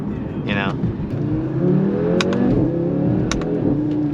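An Audi RS3 accelerates hard, its engine note climbing steadily through the revs with a quick gear shift, loud and close from inside the car, with a voice briefly heard over it.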